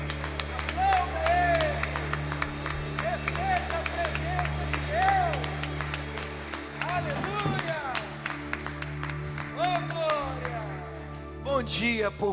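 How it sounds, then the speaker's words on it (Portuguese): A church congregation applauding during a Sunday service, light scattered clapping under a sustained hum and voices calling out, with the clapping growing denser toward the end. "Vamos aplaudir o nosso Deus"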